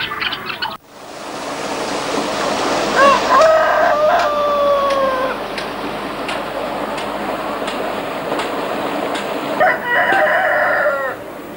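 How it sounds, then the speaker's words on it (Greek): On a monastery farm with thousands of hens, a rooster crows loudly nearby over steady clucking, and a second crow sounds near the end against a busy background of chickens. "Σε αυτήν υπάρχουν χιλιάδες κότες"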